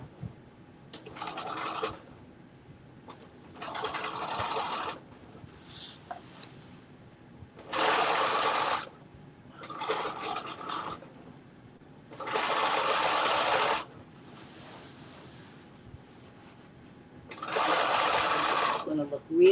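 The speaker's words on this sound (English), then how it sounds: "I'm doing this top stitch" A sewing machine runs top stitching on a dress in repeated bursts of a second or two, whirring briskly with quiet pauses between runs.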